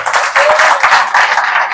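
An audience claps in a hall, a bright dense burst of many hands that swells and dips in short waves, loud and close.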